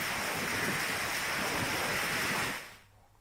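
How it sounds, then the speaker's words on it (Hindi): Heavy rain falling in Bhopal makes a dense, roaring wash of noise that holds steady for a few seconds and then fades down to a quieter background. "राजधानी भोपाल में भी भारी बारिश हुई है।"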